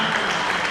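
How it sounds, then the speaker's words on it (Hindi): Audience at a Hindi poetry recital breaks into steady applause, a dense, continuous wash of many hands clapping close by with no pauses. "जोरदार ताली बजाओगे"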